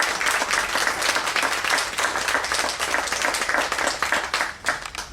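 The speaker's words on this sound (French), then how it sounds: "Je voudrais qu'on l'applaudisse d'une manière" A steady wash of warm audience applause at a Lions Club charter ceremony in Bandol, dense and continuous clapping from many hands throughout, loud and sustained without a break.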